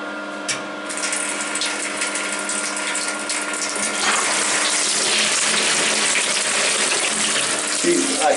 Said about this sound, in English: Here's a huge flush.